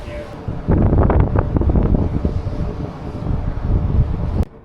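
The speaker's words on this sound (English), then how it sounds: "Windy though." Wind gusts over a ship's deck, buffeting the microphone in a loud, steady low rumble that rises sharply after a quieter start and holds for several seconds before cutting off.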